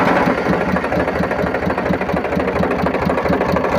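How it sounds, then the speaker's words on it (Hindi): A Powertrac tractor engine just started after a water pump repair, idling steadily with a continuous, even chugging rumble close by. No one speaks. "ये अभी हमने इंजन को स्टार्ट भी कर लिया"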